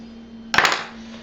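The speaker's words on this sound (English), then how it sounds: "You got to get your knife down in there with a hammer or cleaver, or whichever you choose, and you got to bust it loose." A knife driven with a hammer or cleaver through snapping turtle bone to bust it loose: one sharp metallic crack with a brief ringing tail, close and alone over a low steady hum.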